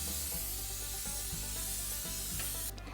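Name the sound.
cooking spray lightly sprayed onto a baking sheet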